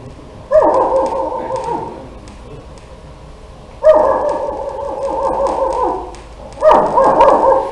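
A dog barks three times in spaced bursts, each a dense, reverberant yelp that fades out, heard at a distance against a low background hum, with no talking over it.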